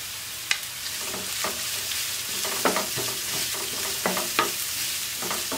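Chopped onions frying in a pan while being stirred, a steady soft sizzle with intermittent scraping clicks of a utensil close by, no talking.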